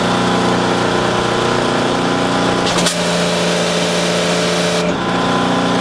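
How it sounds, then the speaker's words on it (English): A railcar pressure washer runs with a loud, steady engine-like drone and pump hum, broken twice by short hissing spray bursts. "hit the pressure washer start. Now you should have full pressure washer capability"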